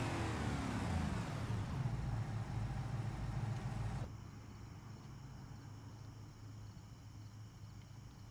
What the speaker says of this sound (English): Well, now there's a truck driving by.